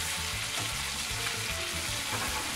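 Chicken piccata cutlets sauteing in a hot pan, a steady close sizzle and crackle of frying with no voices.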